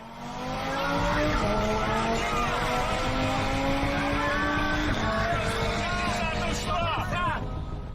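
An Audi and a Tesla Model 3 Performance accelerate hard side by side, a loud rising whine and road roar building steadily for several seconds with rushing wind noise.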